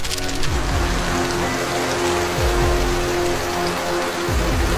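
Heavy rain pours steadily in a Minecraft world, a dense continuous hiss of drops hitting surfaces with low rumbling swells running through it, loud and unbroken with no voices.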